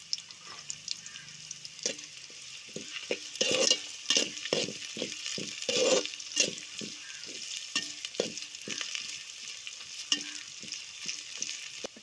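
Onions and curry leaves frying in a pan while a spoon stirs them, giving regular scraping knocks over a continuous sizzle that swells in places, with no talking.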